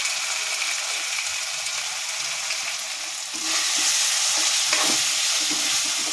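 Mushrooms fry in a hot pan with ginger-garlic paste, chili powder and salt for mushroom Manchurian, giving a continuous close sizzle, with stirring scrapes that grow louder and busier partway through.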